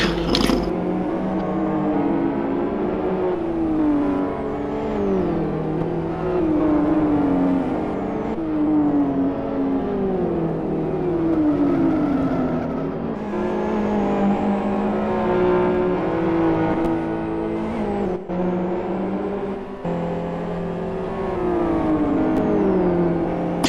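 Super GT race cars accelerate past on a circuit during the main race, their engines howling in repeated rising and falling sweeps as gears change, loud and continuous, with several cars overlapping.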